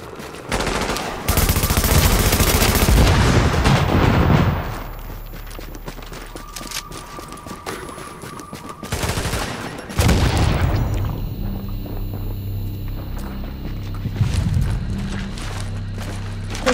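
Pistol gunfire in The Division video game: loud bursts of shots in a rapid run at the start, then further shot bursts mixed with game effects and background hum.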